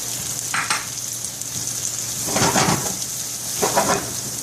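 Onions are sautéed with garlic in a pan, a continuous loud sizzle swelling into three stirring bursts of scraping and hissing, heard close up without speech.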